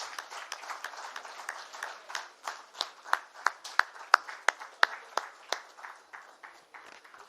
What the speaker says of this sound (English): Can we have some clapping for our CM, please?